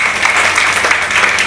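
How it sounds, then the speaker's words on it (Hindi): An indoor audience at a business gathering bursts into loud, dense applause, a steady wash of close clapping that lasts the whole moment. "जोरदार ताली सर के लिए जाएगा"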